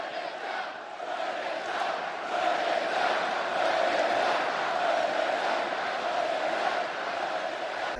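A wrestling crowd at a Manchester arena chants steadily and loudly for several seconds, a dense wash of massed voices with a sustained rhythmic tone and no individual speech standing out.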